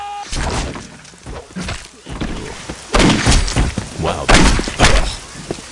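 Sword strikes in the video game Postal: Paradise Lost, a series of crunching, thudding impacts in irregular bursts, loud and close, with a man's brief exclamation over them.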